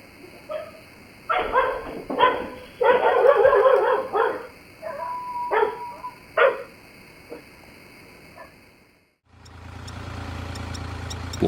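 A vigilant dog named Blackie barks and yips in several short bursts over a few seconds, then falls quiet before a steady rumbling noise takes over.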